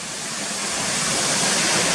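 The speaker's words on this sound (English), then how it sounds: "all these white water rapids going down towards where the bridge is" White water rapids rush down a rocky stream toward a bridge near a waterfall, a loud, steady roaring hiss that stays constant and close throughout.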